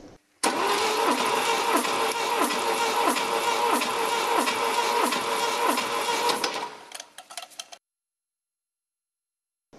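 A Volvo P1800E with a B18/B20 engine cranking over during a compression test, about eight or nine rhythmic starter-motor pulses in a steady churning beat, close and loud, then stopping abruptly into silence.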